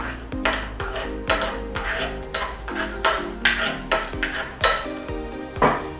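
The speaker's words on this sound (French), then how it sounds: "nous sommes en train de toaster nos épices ici" Spices being toasted in a pan for birria ramen, with repeated metallic clinks and pings of a utensil striking the pan in a steady rhythm, close and bright, over faint sizzling.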